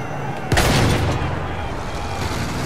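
A gun fires in the Battlefield 1 single-player campaign near a battlefield windmill with a single sharp loud shot. A rumbling echo and steady battle ambience follow, with faint voices in the background.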